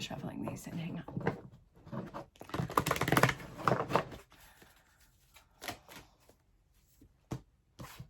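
Tarot cards being shuffled by hand produce soft, irregular riffling and shuffling patter, with a couple of busier bursts followed by sparse, quieter handling.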